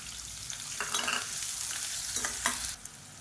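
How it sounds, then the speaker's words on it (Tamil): Finely chopped onion sizzles in hot oil in a pan for bitter gourd kulambu, with a steady crackling fry broken by a few scraping stirs of a spoon, close and alone. "இப்போ இதில் பொடியாக நறுக்கின வெங்காயம் சேர்த்துக்கலாம்."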